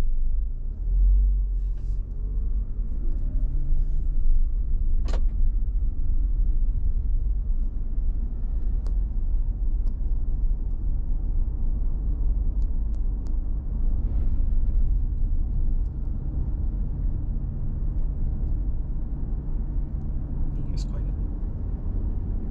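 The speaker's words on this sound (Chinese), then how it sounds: "你可以听到其实这个轮胎的噪音就不是的那么明显" Steady low road rumble and tyre noise inside a Toyota Camry fitted with Continental CC7 tyres, cruising at 40-60 km/h on a smooth track; continuous and fairly subdued, with no talking.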